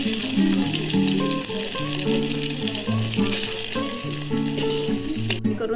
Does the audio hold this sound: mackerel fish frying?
yes